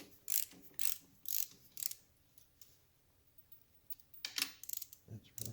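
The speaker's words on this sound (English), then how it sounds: "I'm torquing down the footrest here." A ratcheting torque wrench tightens a footrest bolt into aluminum on a 1975 Norton Commando Mk3 motorcycle, giving a few quick bursts of close, crisp clicking with a short pause between them.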